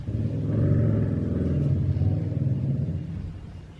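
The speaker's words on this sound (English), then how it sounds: "Loud motorbikes." Loud motorbike engines rumble past close by, a steady low roar that swells and holds for several seconds before easing off slightly at the end, with no talking.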